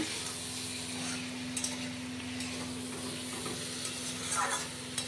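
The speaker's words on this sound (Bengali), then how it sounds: "তো এবার আলুটা দিয়ে সুন্দর করে কষিয়ে জল দিয়ে নেব।" Potatoes stir-fry in a spiced masala in a pan, making a steady low sizzle with occasional stirring clicks and a constant faint hum underneath.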